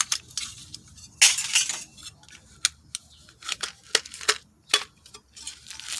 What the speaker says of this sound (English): Take out my stove here and show that to you in my stove sack